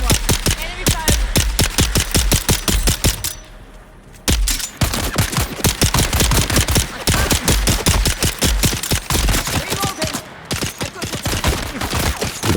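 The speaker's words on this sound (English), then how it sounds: "Enemy fire." Rapid automatic gunfire rattles through a firefight in the video game Dune Awakening, with dense bursts of loud, close shots that pause briefly twice before resuming.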